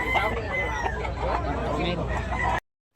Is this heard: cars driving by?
no